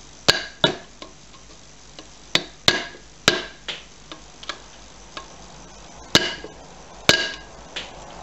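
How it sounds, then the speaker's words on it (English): Hammer taps down the locking tabs on a 1973 3hp Briggs and Stratton engine during a rebuild: about a dozen sharp, close metallic strikes, some in quick pairs, with quiet gaps between them. "Just tapping it down."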